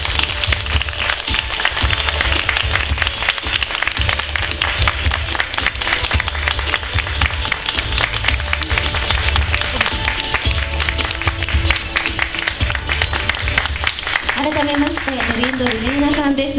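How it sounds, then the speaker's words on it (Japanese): Steady, loud audience applause welcoming a guest onto the stage at a film festival, a continuous wash of many hands that carries on throughout, with voices beginning to speak near the end. "どうぞ大きな拍手でお迎えください"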